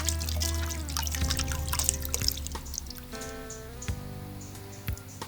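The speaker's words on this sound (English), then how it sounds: "Now she has finished making her tool and she is washing it now." Water splashes and drips as a homemade wooden cooking tool for making manioc pittu is rinsed by hand, irregular trickles and knocks close by with a low background hum.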